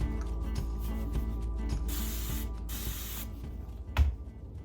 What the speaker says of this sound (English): I'm going to start just by misting the top. And then I'm going to mist the new brush.